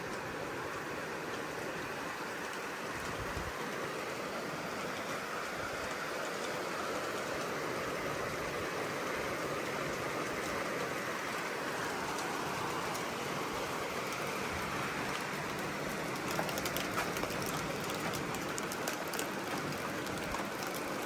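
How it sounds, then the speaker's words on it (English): Steady, dense rain drumming on galvanized metal roofing in Ghana, a continuous hiss and patter that stays even throughout with a few sharper drips late on. "The rain on the galvanized roofs."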